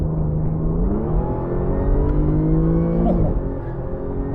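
An Audi S5 with an APR stage 1 tune accelerates on a test drive, its steady engine drone rising in pitch under a constant rumble, heard from inside the car with no talk.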